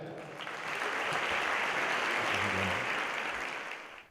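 A lecture audience applauds to welcome a speaker onto the stage, a broad, sustained wash of clapping that swells in and tapers off at the end, with a faint murmur underneath.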